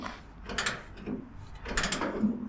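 A ratchet turns out a long bolt on a 1959 Apache truck, making two close bursts of quick metallic clicking separated by a short pause.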